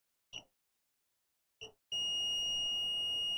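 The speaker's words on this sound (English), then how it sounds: "it's going to start beeping at me again" Buzzer on a Raspberry Pi Pico sensor kit gives two short separate beeps, then sounds a continuous piercing tone that holds to the end, close and alone.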